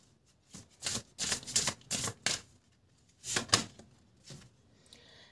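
A deck of tarot cards is shuffled during a reading, making several quick, crisp riffling bursts in two groups separated by a short pause, close and fairly soft.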